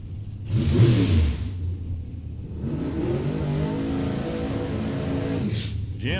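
Fiberglass replica Camaro drag car at a Super Pro bracket race: a loud engine burst with a deep rumble, a brief lull, then a steady revving drone that holds for several seconds nearby.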